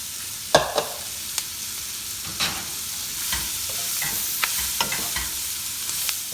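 Vegetables for a cabbage bhaji frying in a hot pan, a constant loud sizzle with scattered scrapes and knocks from stirring, close up and without speech.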